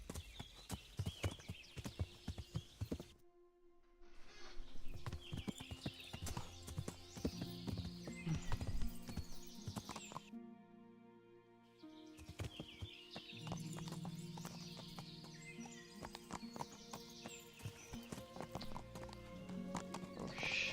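Horse hooves clip-clop steadily in the medieval game Kingdom Come: Deliverance, with a horse whinnying now and then, loud and close over music and game ambience, with brief silent gaps.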